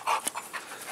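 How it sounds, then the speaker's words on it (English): A dog pants in short, quick breaths close by, a brief burst of panting with a soft whimpery edge and no talking. "That's my dog, Brandy."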